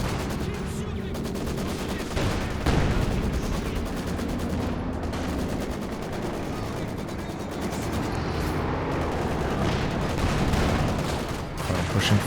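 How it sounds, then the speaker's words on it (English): Dense battlefield audio from Company of Heroes 2 during a bombing strike: continuous rumbling blasts and rattling gunfire overlap without pause, loud and sustained, with a voice talking over the top. "Got the bombing strike now."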